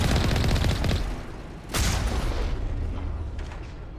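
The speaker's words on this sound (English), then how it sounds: "just shooting Rachni" Dense rapid gunfire and booming blasts from shooting Rachni in Mass Effect 1 Legendary Edition, loud and continuous with a brief lull before a heavy burst.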